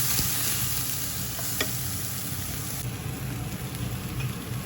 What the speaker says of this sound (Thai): ผัดต่อนะคะ เพราะว่าเส้นมันยังไม่สุกดีนมสดแทนน้ำนะคะ